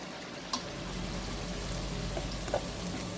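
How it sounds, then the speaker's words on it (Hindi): Boiled chana dal goes into hot masala, steady close sizzling broken by a couple of wet splats as the lentils drop into the pan. "अब इसके अंदर हम ये अपनी जो बॉइल्ड दाल है वो शामिल कर देंगे।"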